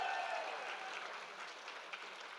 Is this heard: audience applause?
yes